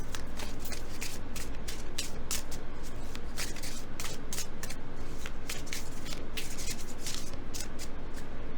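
A tarot deck being shuffled by hand close up: continuous rapid riffling and sliding of cards with repeated crisp bursts, steady and alone, with no talk.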